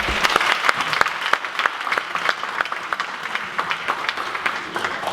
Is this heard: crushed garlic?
no